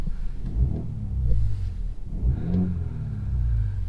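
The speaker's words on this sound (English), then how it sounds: "Let me just give it a couple revs." Four-cylinder engine of a BMW X2 M35i revved a couple of times, deep rumbling bursts swelling and falling close by with no talk over them.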